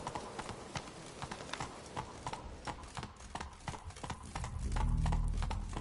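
Horse hooves clip-clop in a steady walking rhythm in The Witcher 3, close and clear, with a low rumble swelling at the end.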